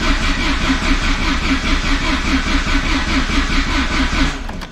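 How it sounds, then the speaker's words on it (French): The starter motor of a Peugeot 205 GTI cranks the engine in a fast, steady, rhythmic churn for about five seconds, loud and close, before trailing off without the engine catching. "J'ai du démarreur, ça commence à prendre vie."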